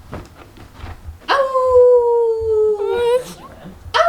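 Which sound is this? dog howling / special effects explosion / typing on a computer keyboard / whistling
dog howling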